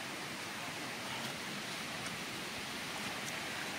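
Heavy early-morning rain falls on a village in early May, a steady, dense hiss of rainfall with no break, fairly faint and distant, with no voices.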